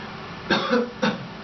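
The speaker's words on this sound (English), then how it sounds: "Oh, excuse me, that was cough." Two quick, close coughs, the second a moment after the first, over a low steady background hiss.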